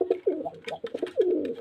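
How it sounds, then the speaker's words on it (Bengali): Giribaz pigeons from Murshidabad, a running pair kept for sale, coo in a string of soft, throaty calls close by, with short repeated phrases ending in a longer drawn-out coo. "গিরিবাজ পায়রা দেখতে পাচ্ছেন পায়রা।"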